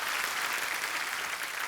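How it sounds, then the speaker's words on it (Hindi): A studio audience at a Hindi comedy show applauds in a brief, dense, steady burst of clapping with no talk over it. "ठोको ताली, ठोको ठोको जोर से।"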